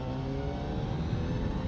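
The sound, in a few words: Honda CBR 1000 RR R-SP motorcycle engine in second gear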